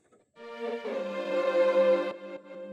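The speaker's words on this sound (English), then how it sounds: "And then that moves into another sample, which is from some strings again." Sampled strings swell in after a quiet start, a sustained bowed-sounding chord that holds steady and then thins out near the end, heard alone.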